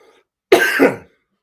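A single close cough, a short double burst, breaks an otherwise silent moment during a quiet meditation.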